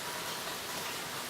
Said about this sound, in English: people complain they can't hear me over the sound of the rain